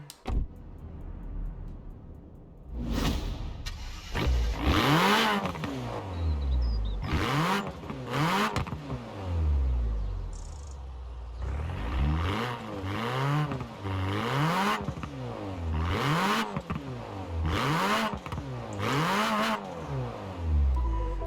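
2018 Renault Megane R.S. engine in Forza Horizon 4, revved repeatedly while stationary, each sharp climb to high revs falling back to idle in a series of loud bursts.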